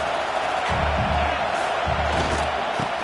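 Loud, steady stadium crowd noise at an American football game fills the whole stretch, with low thumps and swells of cheering. A broadcaster talks over it.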